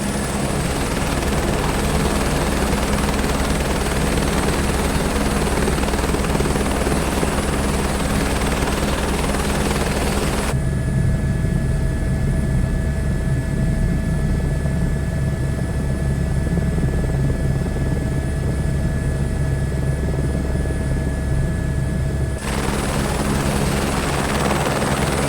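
Helicopter on a scenic flight over the Lahaul and Spiti loop, a steady loud rotor and engine drone heard from inside the cabin, constant throughout with no voices.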